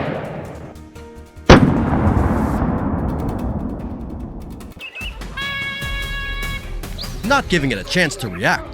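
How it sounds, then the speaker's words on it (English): A single sharp rifle shot rings out at a wild boar in a forest. It is close and loud, and its echo dies away over a few seconds. A narrating voice talks over it and continues afterward. "a bullet is fired instantly"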